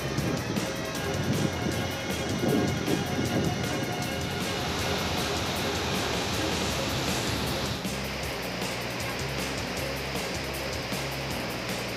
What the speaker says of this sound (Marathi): मांजरा धरण ओव्हरफ्लो झालेले आहे। त्याची ही दृश्य आपण पाहतोय।